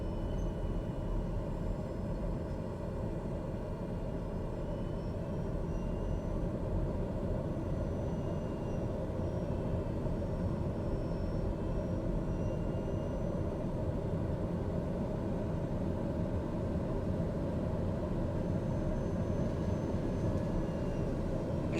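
Propeller airplane engine throttled up to taxi across grass, a loud, steady droning roar with rumbling low end that holds continuously throughout, close and uninterrupted, with no voices.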